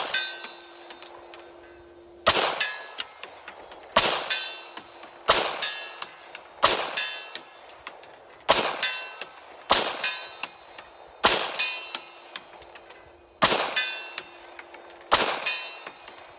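Pistol shots from a Beretta M9A4 firing 9mm rounds at a range, each followed by a sharp metallic clang of steel targets, about nine evenly spaced hits ringing out loud and alone.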